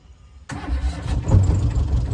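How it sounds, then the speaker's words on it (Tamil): A diesel car's starter motor cranks sharply out of near silence, and the engine catches within a second and settles into a rough, steady idle close by. "கிளச்சை ப்ரெஸ் பண்ணிவிட்டு ஸ்டார்ட் பண்ணுங்கள்"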